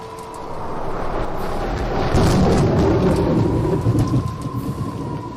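A thunderstorm with rain rumbles in the visual novel game Umineko. The thunder is a deep, heavy roll that builds and holds loud for several seconds over steady rain hiss, with no voice over it.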